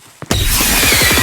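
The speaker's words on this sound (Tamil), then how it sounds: "ராக்கெட் மாதிரி மேலே போயிட்டு வெடியுது" A firework rocket in the PC game Firework Simulator lets out a faint click, then erupts into a loud, sustained rushing hiss with a rapid fluttering crackle as it shoots upward.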